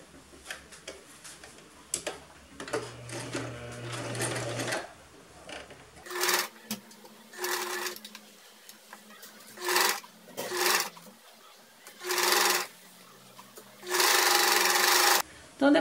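A domestic sewing machine stitches the facing on a blouse neckline in short, loud motor bursts separated by pauses, its needle ticking rapidly, while someone talks between runs.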